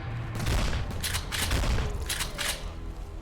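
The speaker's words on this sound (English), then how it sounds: "This gun is such a fun weapon." A gun fires in quick repeated bursts inside a video game, loud and close, with a steady rumbling wash running under the shots the whole time and no talking.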